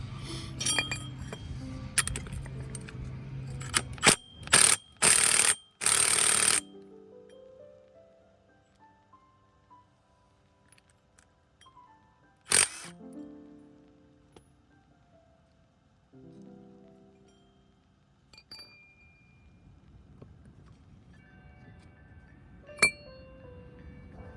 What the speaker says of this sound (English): Next thing I'm gonna do is remove this pulley.